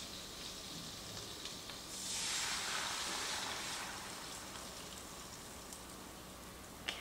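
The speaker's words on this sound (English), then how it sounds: "my butter is nice and sizzling. Here go the eggs." Eggs hit hot sizzling butter in a pan while a Tex-Mex breakfast burrito is made, a steady close frying hiss that swells briefly loud after they go in, then settles back to a constant sizzle.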